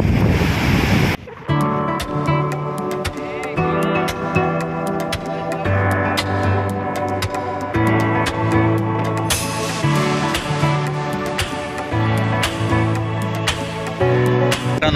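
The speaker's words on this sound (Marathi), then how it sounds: "समुद्रात हवा आणि भरती खूप आहे" Loud, continuous surf and rough sea at Alibag beach under strong wind and rain, with a steady roar of breaking waves and gusts buffeting the microphone throughout.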